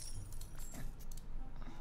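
Keyboard keys clicking and rattling while a Disney Dreamlight Valley game is being played, a steady run of small close taps with no talk over them.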